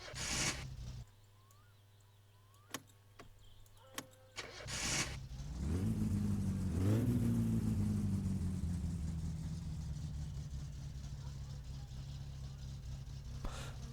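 A car in the game My Summer Car cranks briefly, catches, gives a rising rev, then settles into a steady rumbling idle that slowly fades, with a few light clicks before starting.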